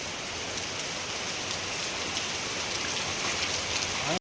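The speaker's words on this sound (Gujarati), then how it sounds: "અહીંયા ફૂલ વરસાદ આવી ગયો" Heavy rain pours steadily, a dense, constant hiss of drops drumming on surfaces throughout, loud and close with no voices.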